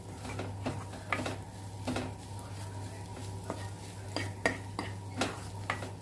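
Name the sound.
stirring okra thoran with coconut in a pan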